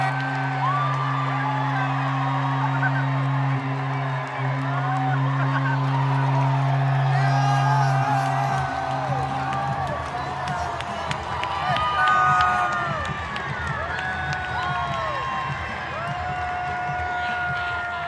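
A sold-out ballpark crowd roars and whoops after a Blue Jays walk-off win in the bottom of the ninth, a dense, sustained wall of cheering that swells and stays loud throughout, with a steady low hum underneath.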